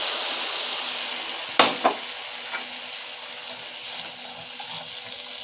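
Water is poured into a pan of mango and spices frying for a Bengali fish curry. A sudden splash and hiss bursts out, followed by a second pop, then a softer sizzle that fades down.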